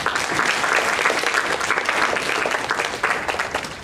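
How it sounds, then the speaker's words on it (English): An audience claps steadily and loudly after a group presentation on a college campus, a dense, sustained round of applause with no one speaking over it. "y'all give them another hand."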